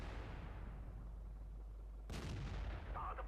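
A single booming tank cannon shot in World of Tanks fired at a T-43, a sudden close blast rising out of a steady low engine rumble, followed by a brief ringing tail.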